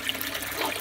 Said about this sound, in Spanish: puse a funcionar el filtro y ahí llega el agua